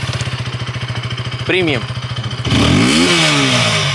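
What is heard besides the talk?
Yamaha MT15 motorcycle exhaust note, engine idling and revving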